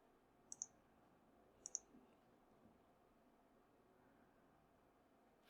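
Soft computer mouse clicks arrive as quick double taps, two pairs and then a single sharp click, very faint against near silence during an affiliate-program web tutorial.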